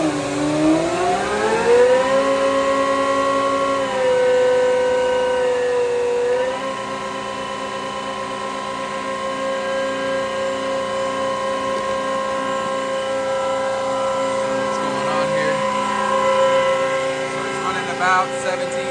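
A Hitachi HPV118 hydraulic pump on a John Deere 270D excavator runs under test near 5,000 psi with the engine at about 1770 rpm. It gives a loud, steady whine with tones that rise and shift early on, then hold constant, close and continuous.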